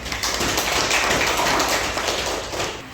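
Steady, dense applause from a lecture audience at a campus teaching session, a continuous wash of many hands clapping at even loudness for the full three seconds with no voices over it.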